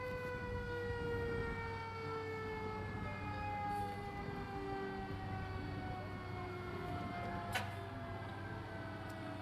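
A 1981 Ford 8000 fire engine pumper rolls past in a parade, its wailing siren sweeping steadily down in pitch over a low engine rumble and crowd noise, heard at moderate distance.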